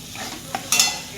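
Spice masala for spicy bitter gourd curry sizzles and fries in a pan while a spoon stirs it, giving a soft continuous crackle with a few scraping strokes close by.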